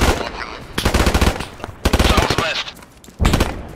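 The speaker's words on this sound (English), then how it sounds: "Open fire!" Machine gun fire in the video game Squad, loud rapid bursts broken by short pauses across the clip, with voices calling out in places.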